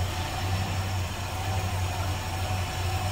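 A numbers-matching 318 V8 in a 1972 Dodge Charger SE with a newer intake manifold idles with its hood open, a steady, smooth low rumble that holds constant throughout, with no talking.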